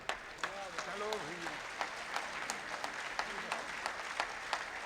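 An audience at a political gathering in Uttar Pradesh breaks into applause to welcome guests, a dense, steady clapping with a few louder claps standing out, while a voice speaks over it.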